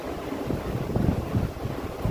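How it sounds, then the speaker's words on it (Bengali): Wind gusting through trees on a breezy, darkening day, a steady broadband rush with swelling gusts, fairly close to the microphone and buffeting it, with no talking. "হাওয়াও দিচ্ছে, গাছগুলো নড়ছে,"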